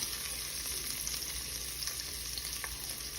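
Onions sautéing in a pan for mutton kuzhambu give a steady, broad sizzle and frying hiss, close and continuous with faint stirring scrapes and no talk.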